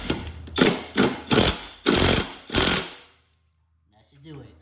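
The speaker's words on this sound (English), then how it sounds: "go ahead and bring in the impact wrench. Make sure it's in the tightening motion and then just tighten it down" An impact wrench tightens the blade bolt on a lawn mower during spring maintenance. About five sharp rattling bursts come in quick succession, close and loud, followed by near silence.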